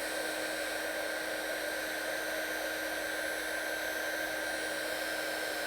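Heat embossing tool blowing over a stamped card, a steady, unbroken rushing hiss with a faint whine, constant loudness throughout, no talking.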